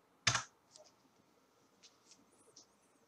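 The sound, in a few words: typing on computer keyboard and pressing Enter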